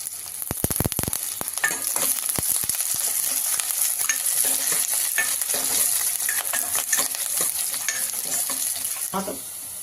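Onions, green chilies, garlic and curry leaves fry loudly in a hot pan, a constant close sizzle with a utensil stirring and scraping against the metal.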